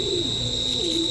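A high-quality Madras pigeon coos close by, a soft, low, rolling call that rises and falls twice over a steady background hum, with no talking.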